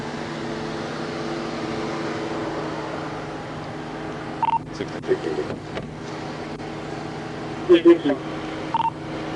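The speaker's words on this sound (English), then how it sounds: "Please try calling his cell phone number" Telephone keypad tones dialing a cell phone inside a police patrol car during a traffic stop, a few short beeps in two clusters over a steady engine and road hum, with people talking nearby.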